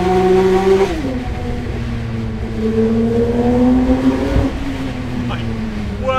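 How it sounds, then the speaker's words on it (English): A Porsche 911 GT3 of the 992 generation drives a mountain pass, its engine holding a loud steady drone with a sharp pitch drop near the start and a slow rise after, recorded close from inside the car. "It is one hell of an engine."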